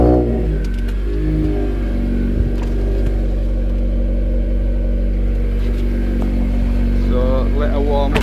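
A Honda Civic Type R FN2 engine idles loudly up close with a steady low rumble, warming up with occasional small revs and faint background voices.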